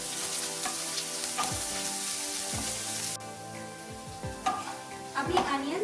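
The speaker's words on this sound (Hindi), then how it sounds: "अभी अनियंस को हमें मीडियम फ्लेम में अच्छे से गोल्डन होने तक फ्राई करना है।" Chopped onions fry in a pan over a medium flame, giving a steady close sizzle with occasional stirring scrapes and no talking.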